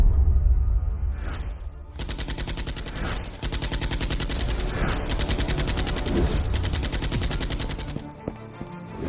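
Dense, sustained gunfire in an animated detective scene aboard a ship on Karachi beach, rapid shots running together into a loud continuous burst for several seconds before ending abruptly.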